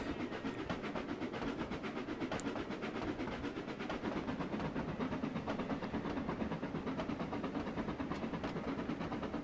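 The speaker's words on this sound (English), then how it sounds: "I think I remember how to run a steam engine" A steam locomotive runs in Trainz Railroad Simulator 2019 on the Cornish mainline, a steady rumbling, hissing drone with faint repeating clicks throughout, loud and close with no talking.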